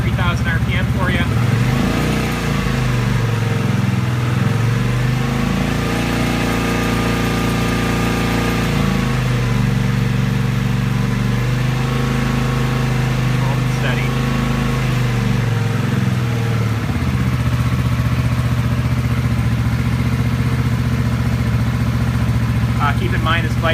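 A Kawasaki VN750 motorcycle, cold and untuned, runs loud and close without choke as its engine is revved up and back down twice, the pitch rising and falling in smooth sweeps over a steady idle.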